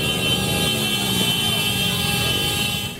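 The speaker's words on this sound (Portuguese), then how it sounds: "finalizaram com um buzinaço em frente à sede da Eletrobras Amazonas Energia no município." Car horns honk steadily in a street protest in front of the Eletrobras Amazonas Energia office in Lábrea, with residents complaining about power outages; loud, sustained tones over nearby traffic rumble.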